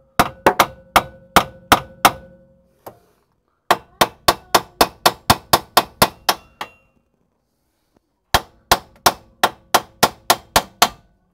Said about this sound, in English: You don't have to bash the crap out of it, you just tap it.